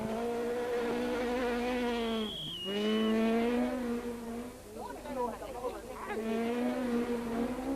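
A rally car on a stage at the Rally of South Africa screams past with a rising and falling engine note and gear changes, under a commentator's voice.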